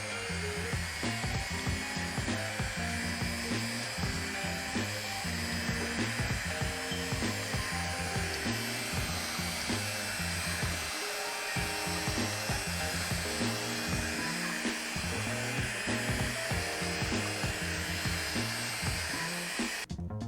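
An electric mixer whirs steadily through red velvet bread pudding batter. The motor hum runs continuously under background music for the full stretch.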